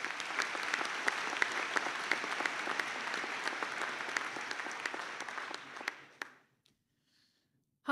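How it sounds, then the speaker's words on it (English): Graduation ceremony applause from a seated audience: a faint, steady patter of many hands with a few sharper individual claps, lasting about six seconds before dying away into near silence. "Give them a round of applause."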